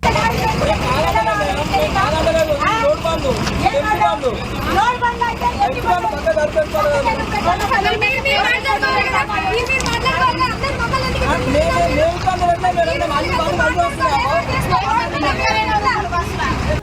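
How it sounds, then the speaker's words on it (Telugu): Sand-hauling lorries rumble and idle in a roadside traffic jam, with steady engine noise and occasional horn-like tones under someone talking continuously close by. "రోడ్డుకు అటు లారీలే ఇటు లారీలే"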